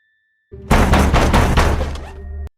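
A door is forced open with a loud, heavy crash, a sharp initial thud followed by a rough splintering burst lasting about two seconds before cutting off.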